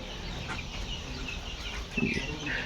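Broiler chickens in a poultry shed of more than two hundred birds give scattered soft clucks, faint and close, with one brief louder call and a low background hum.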